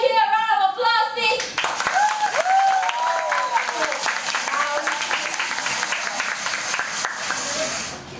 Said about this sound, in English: can I hear a round of applause,